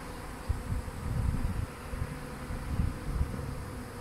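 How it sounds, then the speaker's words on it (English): Honey bees buzz around a modified Warre swarm bait hive, a faint, steady drone with soft swells as insects pass close, and no voices. "Aren't bees beautiful?"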